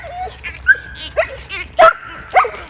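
A dog gives a series of close, sharp barks and yips, roughly five short bursts spaced irregularly, with whimpering tones between them.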